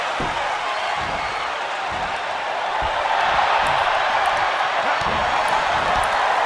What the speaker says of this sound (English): The capacity crowd here in the TD Arena in Charleston, South Carolina are rallying in this match.